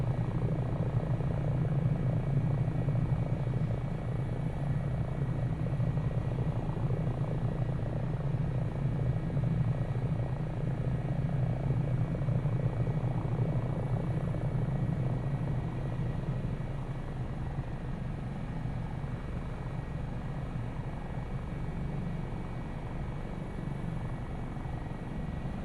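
Helicopter rotor and engine drone, steady and close throughout the flight and landing, slowly easing in level toward the end, with no talk.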